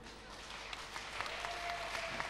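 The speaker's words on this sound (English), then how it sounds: "warm round of applause" Audience applause at the DLD Tel Aviv tech conference, a steady, fairly distant wash of clapping from a crowd that swells slightly toward the end, with no voices over it.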